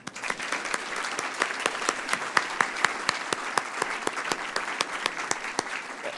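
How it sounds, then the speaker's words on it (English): Luncheon guests at the Columbus Metropolitan Club break into sustained applause, a full room of clapping with a few sharp, distinct claps standing out close by and continuing evenly across the whole stretch. "Actually, I'm going to pause for a round of applause there."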